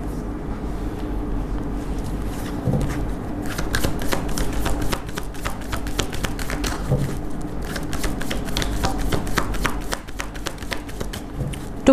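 Tarot-style cards shuffled by hand for a reading, a dense run of rapid riffling flutters in repeated bursts, close and fairly loud throughout.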